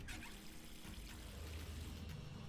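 Water pouring and trickling in a puzzle room in the video game Zero Time Dilemma, a faint, steady liquid flow heard alone without talk.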